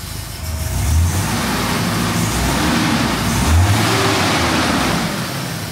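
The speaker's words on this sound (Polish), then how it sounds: "Zobaczę, dam mu trochę gazu." A BMW engine, likely one of several models including a 325i E36 or 535i E34, revs up twice in quick throttle blips over a steady nearby idle, loud and close with no talking.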